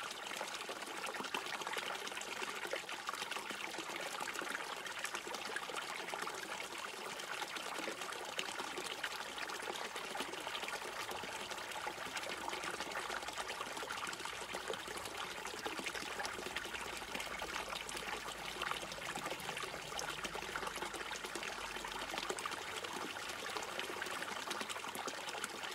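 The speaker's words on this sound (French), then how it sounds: "Observez comme l'eau apparaît douce, presque soyeuse." Water flows steadily in a soft, continuous trickling stream, heard alone at an even, moderate level throughout.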